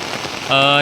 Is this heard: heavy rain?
yes